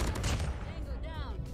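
An AK-47 Mythic rifle fires in Call of Duty Mobile, a quick burst of rapid automatic shots that sounds faint and compressed under game noise.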